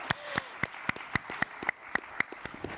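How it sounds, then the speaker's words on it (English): Audience clapping at an environmental panel discussion, with sharp, separated claps at a steady rhythm, a few hands rather than a full crowd, fairly close and moderately loud. "Can I clap to that?"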